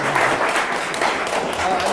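Applause from an audience at a talk in Aspen, Colorado, a steady dense wash of clapping that holds at an even level across the whole stretch, with no voices standing out above it.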